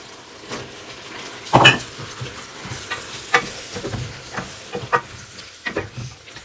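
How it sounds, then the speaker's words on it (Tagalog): Carrots dropped into a pan of sizzling pork stew, with a sharp clatter as they land, then faint frying hiss and scattered scrapes and clinks of a utensil stirring in the pan. "Ilagay na natin ang ating carrots"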